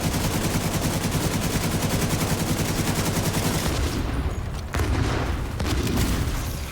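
Rapid video game gunfire, loud sustained automatic bursts of shots in quick succession close up, with a short break and a heavy impact partway through, no talk.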